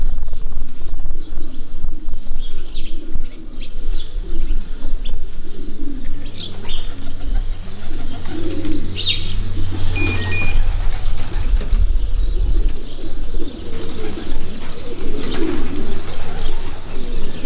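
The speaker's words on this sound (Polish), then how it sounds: "I pojawił się pierwszy gołąb." Pigeons coo at a racing-pigeon loft as the first bird returns from a 340 km race from Torgau, with soft repeated cooing, a few chirps and a brief flutter of wings over steady outdoor background noise.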